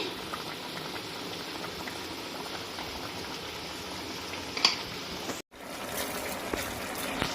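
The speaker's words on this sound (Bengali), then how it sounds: "চলো এটা ফুটে উঠলে এর ভেতরে আবার কি কি দিচ্ছি তোমাদের দেখাচ্ছি" A pot of vegetable curry bubbles quietly at a low, even simmer, a faint continuous burbling that cuts out for a moment before resuming.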